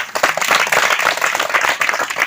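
Congregation at a Telugu church preaching service in Khammam, Pandregupalli clapping hands together, a dense steady burst of applause close by and loud throughout, with no talking.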